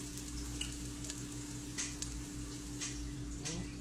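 Onions frying in a pan give a steady, close sizzle that holds evenly throughout, with a few faint clicks and stirring touches on top and a low hum underneath.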